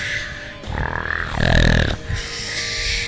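A voice imitates a wrestler's odd breathing exercises with exaggerated grunting, snorting huffs that swell into a rough, growling exhale, close and loud.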